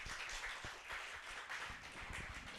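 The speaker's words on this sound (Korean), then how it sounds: "한 번 더 박수 해주세요" Congregation applauds during a Sunday church service, a steady patter of many hands clapping at moderate volume for the full stretch, heard from within the room with no voices over it.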